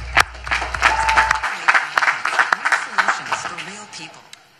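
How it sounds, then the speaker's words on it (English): Audience applause at a South Carolina graduation ceremony, uneven clapping rising and falling with distinct hand claps and crowd murmur, while someone speaks over it early on. "I want you to give them another round of applause"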